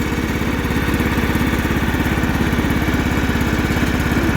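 A John Deere L110 lawn tractor engine, long unused, runs steadily at a low idle with a fast, even chugging pulse, loud and close throughout with no voices.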